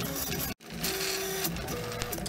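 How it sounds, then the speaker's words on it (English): A 3D printer at work, with a continuous mechanical whir of stepper motors that gives off shifting tones and short sustained pitches, close and fairly loud, with a brief cut near the start. "you have to be patient when you're 3D printing"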